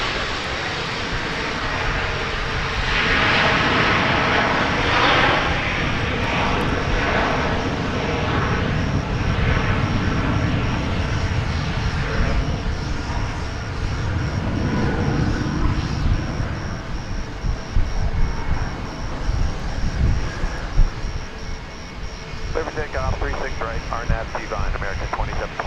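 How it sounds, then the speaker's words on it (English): An American Airlines Airbus A321 lands at Dallas/Fort Worth airport, its engines producing a loud, broad, sustained roar that swells and rumbles throughout, with speech heard intermittently over it. "That was American Flight 2195, an Airbus A321 coming in from Salt Lake City."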